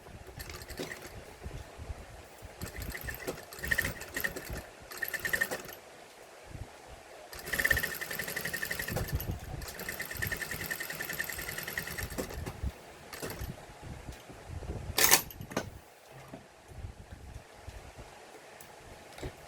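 Sewing machine stitching a lace hobo bag, a faint continuous mechanical whir with intermittent bursts and small clicks, quiet and close.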